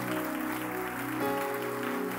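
A church congregation claps together in a steady, dense burst of applause that fills the room at an even level throughout.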